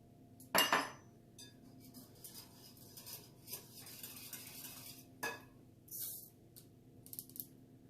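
A spoon scrapes and clinks against a mixing bowl while carrot protein muffin batter with grated carrot is stirred together, with a sharp clatter early on, then softer intermittent scrapes and taps.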